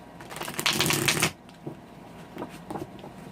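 Tarot cards being shuffled by hand, with a quick close riffle and flutter that lasts about a second. A few faint card taps follow in a quiet room.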